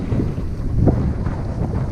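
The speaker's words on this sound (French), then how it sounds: "La pluie est là, le vent aussi." Wind buffets the microphone during a rainy gravel bike ride, a loud, rough, gusting rumble that swells and fades throughout.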